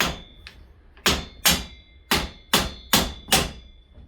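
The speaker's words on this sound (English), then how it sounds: "you're gonna need a rubber mallet to beat this in" A rubber mallet strikes a table saw blade wheel during assembly, landing about seven sharp, loud blows in an irregular rhythm with short decaying rings between them.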